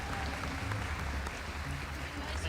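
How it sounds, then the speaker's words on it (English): A crowd at a Gran Turismo World Series esports event in Los Angeles applauds in a steady wash of clapping, fairly loud and continuous throughout the short moment. "let's give him a big round of applause"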